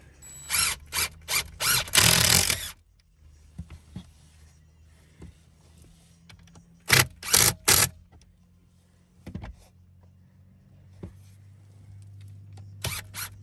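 A power drill drives screws while a bed is set up in an RV transport truck. A loud cluster of short whirring bursts comes first, then a second group a few seconds later, and a brief final burst, with quiet handling noise between them.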